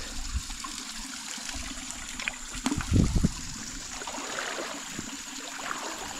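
Flowing stream water trickles steadily outdoors at low level, with a brief louder splashing gush near the middle of the clip and no voices.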